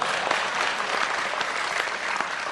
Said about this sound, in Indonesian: tepuk tangan yo. Tepuk tangan.